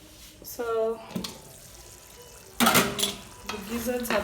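Chicken gizzards cooking in a pot, with a metal spoon stirring and scraping in bursts against a soft sizzle, and a voice talking between the stirs.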